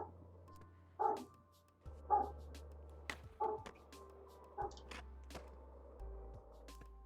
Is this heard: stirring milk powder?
no